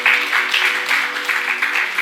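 Applause from a church congregation at an anniversary celebration, a steady broadband clatter of clapping that rises and falls slightly, fairly loud and continuous, with a low hum of sustained tones beneath it.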